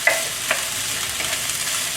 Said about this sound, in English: Now you start to hear the stir fry sizzle sound. That means your frying pan is nice and warm and hot.